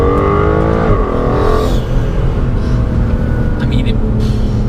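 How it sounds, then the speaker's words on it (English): An Aston Martin DBS Superleggera's engine roars as it accelerates hard in second gear, the pitch climbing then dropping with a gear change, loud and close with constant road noise. "I'm just going to drop this down to second now while we have a burst."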